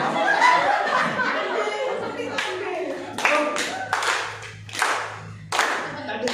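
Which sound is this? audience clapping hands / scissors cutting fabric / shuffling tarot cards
audience clapping hands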